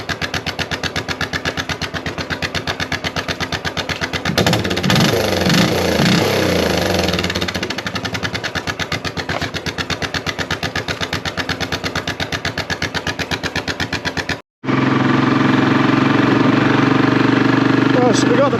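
A Royal Enfield Classic 500 motorcycle with a Hitchcock's Goldstar exhaust idling nearby, a loud, steady thumping single-cylinder beat that briefly cuts out, then resumes with a deeper, heavier rumble.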